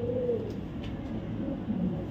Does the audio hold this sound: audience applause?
no